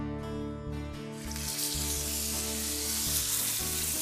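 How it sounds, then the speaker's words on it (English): Meat searing in rippling hot vegetable oil in a pan, a loud continuous sizzle with crackling spatter and a steady hum beneath, no talk. "When the oil ripples, the pan is hot enough to add the meat."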